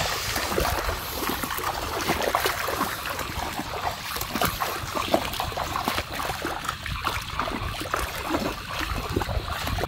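Water sloshes and splashes continuously as people wade through a pond while fishing by hand, a busy, close rippling with irregular small splashes.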